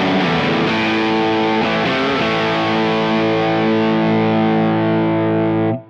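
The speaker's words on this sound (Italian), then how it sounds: "Quindi il suono sarà un pelo saturo, un crunch sostenuto." Electric guitar through a gold foil pickup with the amp head gain near 7-8, ringing out a sustained crunchy, slightly saturated chord that holds steadily for about six seconds before cutting off abruptly.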